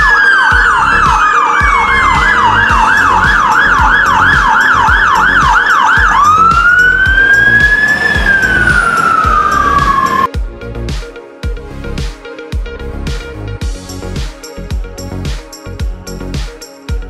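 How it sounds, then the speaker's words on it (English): A fire engine siren wails loudly and up close, cycling through rising and falling tones before shifting into rapid yelps over a rumbling engine. "Fire engine."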